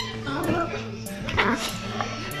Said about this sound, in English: My dog makes me smile a whole bunch, so here's my dog.